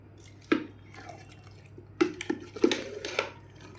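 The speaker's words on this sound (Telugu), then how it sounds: "ఇప్పుడు మళ్ళీ 1 లీటర్ ఆయిల్ కలుపుకున్నామండి" Oil is poured into a jar of mango pickle (avakaya), producing a few quiet, scattered drips and liquid splashes, close by and irregular.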